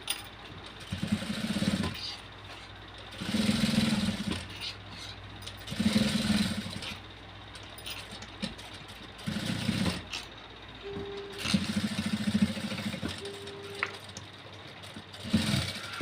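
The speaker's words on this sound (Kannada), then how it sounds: "ಈಗ ಇದನ್ನು ನಾವು ಪೈಪಿಂಗ್ ಏನು ಹೊಲ್ಕೊಂಡಿರ್ತೀವಲ್ವ ಆ ಪೈಪಿಂಗು ಸ್ಟಿಚ್ ಹಾಕ್ಕೊತ ಹೋಗ್ತಾಯಿದ್ದೀನಿ" A sewing machine stitches piping onto an embroidered blouse in a tailoring shop, running in several separate mechanical bursts of a couple of seconds each with short pauses between, fairly close and steady.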